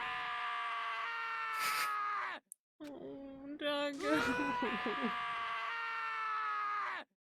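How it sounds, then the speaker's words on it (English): A character in the video game Danganronpa 1 lets out long, sad wailing screams, loud and drawn out, broken by a brief silence and some overlapping talk before the crying resumes. "As Taka's sad screams invaded our skulls"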